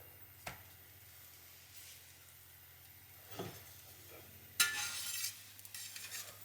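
A buttered slice of bread toasts in a pan with a quiet sizzle, broken by a few sharp clinks and scrapes of a utensil against the pan, then livelier frying toward the end, with no talk.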